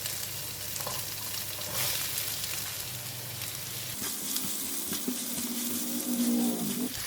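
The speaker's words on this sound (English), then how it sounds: "Fry until it has a very nice fragrance" Onions with garlic and ginger paste frying in a pan for biryani, a continuous soft sizzle with occasional stirring scrapes and a low hum underneath, moderately quiet and close, with no talking.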